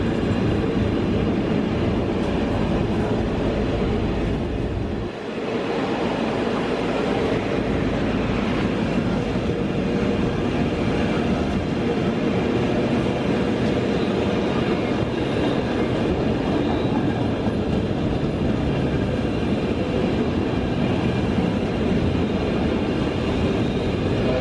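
A freight train with a long string of fairly new, brightly painted wagons rolls steadily past close by, giving a continuous loud rumble with rhythmic wheel clatter and occasional faint squeal.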